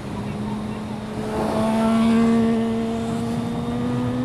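A steady engine drone with strong harmonic tones swells louder midway, like a car exhaust being revved, then settles back to a rumbling idle.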